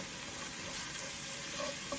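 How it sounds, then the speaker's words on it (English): Food stirred in a pot of Creole red beans and rice simmering with onion powder and cayenne, a soft continuous scraping and sizzle heard up close. "let's give that a nice stir"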